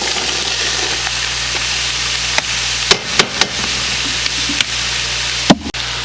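Onion and mushrooms fry in a pot with a steady close sizzle, broken by a few knocks and scrapes of stirring.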